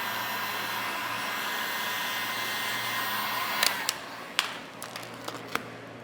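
Heat gun blowing a steady, loud airy whoosh while warming vinyl wrap on a Hyundai Elantra N trunk, with a few sharp taps and clicks near the end as the film is handled.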